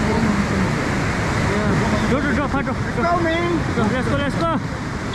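A flooded river rushes past the Tibetan colony in Kullu, Himachal Pradesh, as a loud, constant roar of churning water, with voices talking over it.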